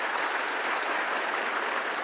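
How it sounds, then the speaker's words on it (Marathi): A seated audience at a motivational talk breaks into dense, steady applause, many hands clapping evenly and loudly without a pause for the whole stretch. "टाळ्या"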